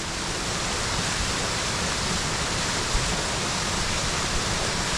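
A waterfall in Northern Ireland roars as a constant, dense broadband rush heard close up, steady and unbroken with no voices.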